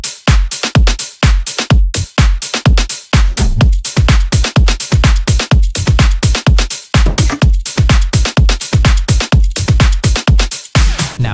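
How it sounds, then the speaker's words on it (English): A punchy bass house drum loop with clap, hi-hats and percussion drives a tight, fast, repeating groove of heavy kicks and crisp hits, loud and upfront with no voices. "Drums all together sounds like this."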